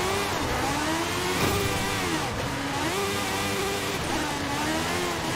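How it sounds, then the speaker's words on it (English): A rally car engine in Forza Horizon 5 revving with a raw, rising and falling growl, loud and continuous with repeated up-and-down pitch sweeps as the car accelerates and shifts. "I like that raw rally sound of that particular car"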